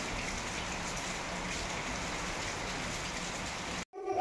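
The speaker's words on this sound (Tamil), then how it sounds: "காலையிலேயே வந்து நல்லா மழை பெஞ்சிட்டு இருந்தது" Steady morning rain pours down continuously, a dense, even hiss of drops on surfaces close by with no voices, ending in a brief break.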